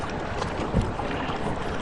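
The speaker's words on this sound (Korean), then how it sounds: "돛을다니 바람이 쌩쌩 배를 밀고 가느라." Wind gusting against a sailboat in a cartoon about early Egyptian sailing ships with leaf sails, a steady airy rush with a brief swell near the middle, no voices.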